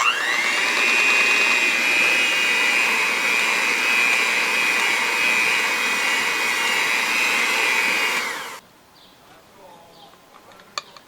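Electric mixer beating Nutella brownie batter with flour, butter and chocolate chips, a loud steady motor whir for about eight seconds that cuts off abruptly, leaving near quiet with a faint click.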